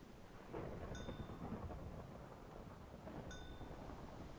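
Rain and thunder in the game Minecraft: a steady hiss of rainfall with a low rumble swelling underneath, and two brief chiming tones ringing out a few seconds apart, faint and continuous.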